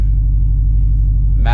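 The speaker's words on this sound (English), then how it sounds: "Car's warming up." A Subaru STI with a freshly installed Cobb downpipe warms up, a loud, steady low engine rumble with a pulsing idle, close by, and a brief brighter sound at the very end.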